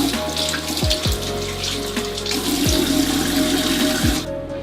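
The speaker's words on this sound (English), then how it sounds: "all you have to do is rinse up the product with cold water" Cold tap water runs steadily into a bathroom sink while a face is rinsed, a continuous close rushing stream with a few low gurgling shifts, until the flow stops abruptly near the end.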